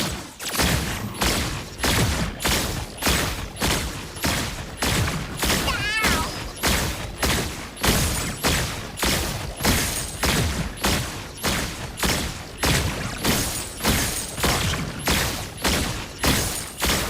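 Loud, rapid gunfire from the video game Predecessor, with shots repeating in a steady, relentless rhythm for the whole stretch and no speech over it.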